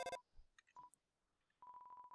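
An in-game phone in Undertale dials Toriel: a quick burst of keypad tones, a few short electronic blips, then a steady run of evenly spaced ringing beeps with no answer, fairly quiet and alone.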